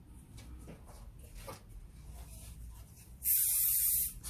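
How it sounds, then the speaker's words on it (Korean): Hairspray hisses from an aerosol can onto an updo during hairdressing practice: one loud, close burst lasting under a second, after quiet combing and handling noises. "스프레이를 한번 뿌리고요."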